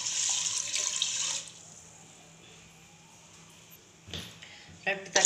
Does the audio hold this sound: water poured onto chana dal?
yes